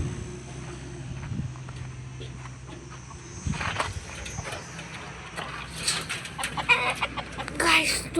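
Many backyard chickens cluck and murmur nearby, with a low steady hum early on and livelier, louder clucks and squawks building toward the end.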